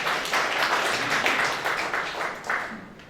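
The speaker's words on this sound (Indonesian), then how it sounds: "Berikan tepuk tangan bagi Tuhan." A church congregation gives a steady round of applause at a Sunday service, with dense clapping and a few voices mixed in, fading slightly toward the end.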